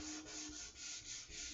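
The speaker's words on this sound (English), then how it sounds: "right now I'm just sanding for the second coat" Steady, close rasping of sandpaper rubbed over a varnished guitar body while preparing it for a second coat, a continuous scratchy sweep with gentle surges in rhythm.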